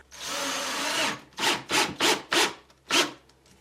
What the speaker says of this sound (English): Now this is a drywall screw gun.